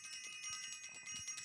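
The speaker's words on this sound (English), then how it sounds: "I am going to ring the bell." A bell rung during a spiritual session, its high shimmering partials ringing steadily and faintly throughout, with soft low knocks underneath.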